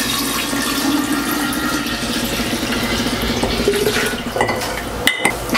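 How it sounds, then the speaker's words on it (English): Room-temperature water runs steadily into a kombucha jar holding a SCOBY, a continuous splashing pour that ends with a brief clink of glass. "Now we're just adding water to top it up."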